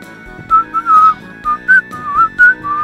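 A catchy whistled melody from the Tales of Destiny remake's forest area: several short, bright whistled phrases rising and falling over a quieter instrumental game soundtrack, with no speech.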